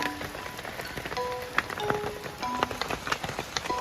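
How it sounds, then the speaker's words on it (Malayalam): Rain falls steadily over a field where a calf is grazing, a dense hiss of drops with scattered sharper patters close by and no one talking. "നിങ്ങൾ സൗണ്ട് കേൾക്കല്ലേ ആ മഴയത്ത്"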